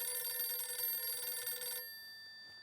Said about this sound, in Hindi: नहीं नट्टू काका, मेरे कान नहीं बज रहे हैं, फोन बज रहा है, सुनिए।